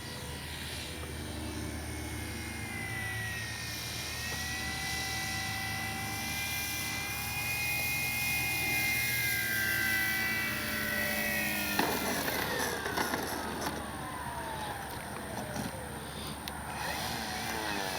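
A 3X Flex RV8 60E radio-controlled electric model airplane's motor whines steadily overhead for a long stretch, its buzzing pitch sliding up and down as it circles, fairly faint and distant.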